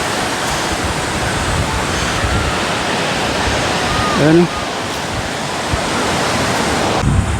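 Sea waves wash continuously against a rocky shoreline, a loud, even rushing roar with a brief spoken word over it midway.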